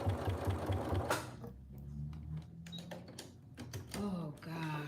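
A sewing machine running top stitching on a denim corset, a steady rapid rattling burst at the start followed by quieter handling noise with a few short stitching runs and occasional talk.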